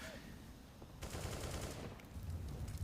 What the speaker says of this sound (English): Gets the headshot back on the AK